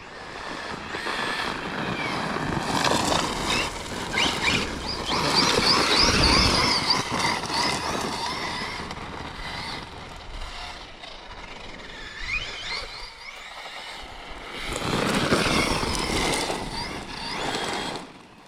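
A Losi Super Lasernut RC truck on Proline MX38 belted tires whines along in surges, its motor rising and fading as it speeds past and turns, loud and close with no talk.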